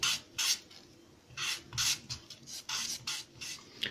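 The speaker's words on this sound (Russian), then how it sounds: "Теперь берем наждачку, кусочек небольшой. И начинаем все это дело" Sandpaper rubs over polystyrene foam in short, light, rasping strokes, a series of soft scratchy swipes with brief pauses between them, close by and quiet.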